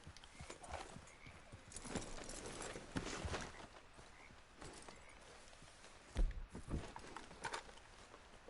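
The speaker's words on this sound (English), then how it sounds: "The hell is that horse?" Horse hooves clip-clopping in Red Dead Redemption 2, a quiet, uneven rhythm of footfalls over faint game ambience, with one sharper thump near the end.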